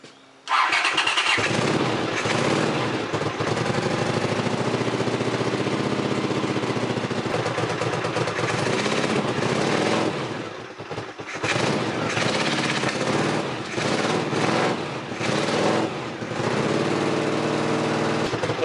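A Honda CX500 motorcycle engine idles and warms up with the choke on, a loud, steady, rough mechanical rumble with a few dips and surges in revs near the middle.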